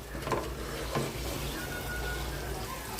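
Food is stirred and fried in a pan for a Telangana-style dish, a soft continuous sizzle with a couple of faint scraping strokes, quiet and close.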